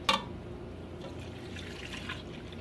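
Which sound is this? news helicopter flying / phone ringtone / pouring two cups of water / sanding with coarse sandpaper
pouring two cups of water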